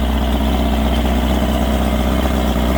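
A Mercury 50hp outboard motor idles steadily at close range, giving a constant low, even drone with a fine rhythmic pulse and no revving, running alone without voices.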